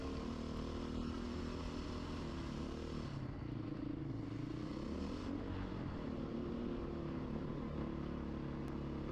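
A Beta RR 430 dirt bike runs along a smooth logging road at moderate speed, its engine droning loud and constant with slight rises and dips in pitch, wind rushing steadily across the whole stretch.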